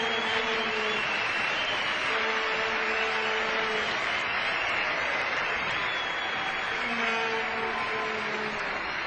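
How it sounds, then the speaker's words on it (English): A small cricket crowd at the Gabba applauds a one-day international century by Pakistan's Ijaz Ahmed against Sri Lanka, steady clapping that fills the whole stretch, with a commentator's voice faintly under it. "Warm applause"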